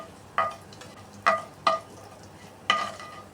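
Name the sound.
capsicum slowly frying on a low flame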